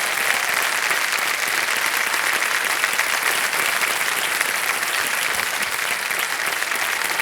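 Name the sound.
studio audience applause on quiz show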